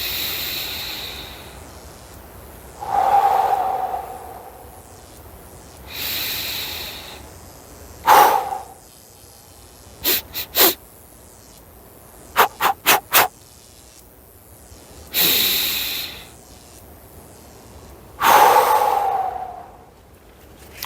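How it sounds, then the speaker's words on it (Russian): Deliberate breathing in different rhythms during an exercise, heard as long slow breaths alternating with bursts of short, sharp nasal puffs, close and clear with no talk. "Видите, разные ритмы дыхания"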